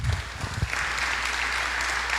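A church congregation breaks into applause, a dense continuous patter of clapping that starts with a few low thumps and swells into a steady even wash.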